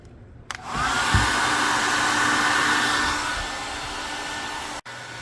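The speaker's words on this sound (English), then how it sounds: "just chuck the hair dryer in the end, turn it on." A hair dryer, placed inside a car headlight to soften it, switches on with a click and whirs loudly and steadily, a continuous airy roar with a faint whine, then briefly cuts out near the end.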